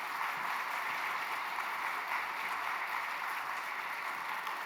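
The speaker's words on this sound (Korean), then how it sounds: "우리 큰 박수로 맞이하도록 하겠습니다" Church congregation applauds steadily and evenly, a dense wash of clapping that fills the hall throughout as the pastor is welcomed at a New Year worship service.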